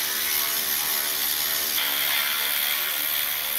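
Ratchet with a size 7 Allen key spinning out the brake caliper bolts on a VW Golf Mk7, a steady close whirring click that runs without pause and shifts slightly in tone partway through.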